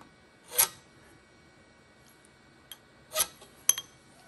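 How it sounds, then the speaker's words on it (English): A scriber drawn along a metal bar to re-mark layout lines, giving a few short, quiet scratching strokes separated by pauses, close by with no talking. "So I'm just going to rescribe the lines."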